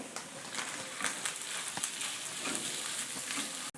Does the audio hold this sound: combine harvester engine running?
no